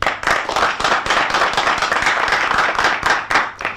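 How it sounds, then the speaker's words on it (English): Brisk applause from a quiz competition audience, a dense burst of many hands clapping close by, steady throughout with no voices. "Round of applause for all of them"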